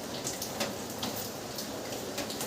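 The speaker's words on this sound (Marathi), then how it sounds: "बाहेर बघा पाऊस पडतो" Steady rain falls outdoors, a continuous soft hiss with scattered drops tapping on surfaces, moderately near and unbroken.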